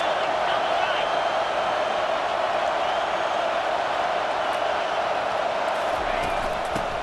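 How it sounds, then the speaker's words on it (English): Stadium crowd noise from the EA Sports College Football 25 video game, with fans roaring for the defense in the red zone as a steady, dense wash of sound that does not let up. "the crowd responding in the red zone, trying to help this defense"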